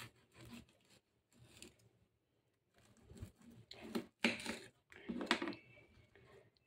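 Knife sawing through a crispy bhurji sandwich, several quiet rasping, crunchy strokes in short bursts separated by pauses, close and faint.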